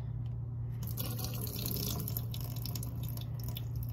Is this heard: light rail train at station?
no